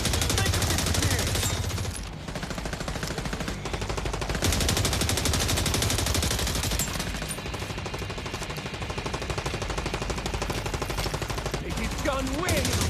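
Sustained automatic gunfire from The Division Resurgence video game, rapid dense bursts running nearly the whole time at high, steady loudness, with faint speech mixed in.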